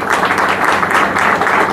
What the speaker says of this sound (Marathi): आमच्या गिरीधरताईंना एक आदरपूर्वक टाळी आपण देऊया